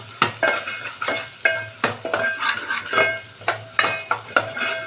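A spoon scrapes and knocks rhythmically against a pan as a pinch of asafoetida is mixed into sizzling tempering for dal, the regular stirring strokes sitting over a soft, continuous fry close by.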